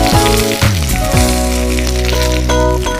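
Carrot pieces, mushrooms, broccoli and three colours of bell pepper for a hot grilled vegetable salad fry in a pan with a loud, steady close sizzle and crackle and no talking.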